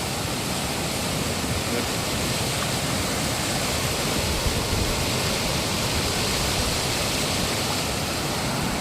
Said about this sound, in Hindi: कितना पानी तेज जा रहा है।